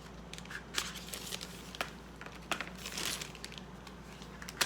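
Tape is peeled and crinkled off the packaging of an Urban Decay makeup palette, giving faint, close rustles and small crackling snaps spread irregularly across a quiet room.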